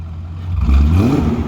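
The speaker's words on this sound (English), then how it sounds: "I'll give you a small rev." A BMW E39 540i M-Sport V8 with an exhaust leak gets a short blip of the throttle, a close, deep engine note that swells and rises briefly from idle before settling.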